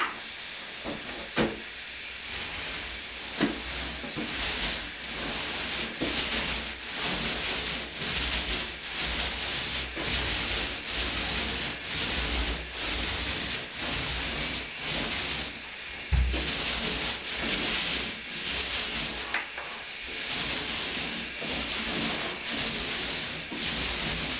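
A can of separated semi-gloss paint being stirred during a bathroom renovation, giving a steady, soft swishing and scraping that repeats in uneven strokes, close and fairly quiet, with no talking.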